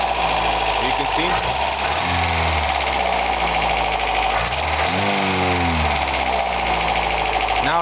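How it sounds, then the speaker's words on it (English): A 1982 Toyota pickup's 22R four-cylinder engine idles steadily and fairly loudly with a constant mechanical chatter, while someone talks over it at intervals. "Now it just sounds like your normal 22R engine."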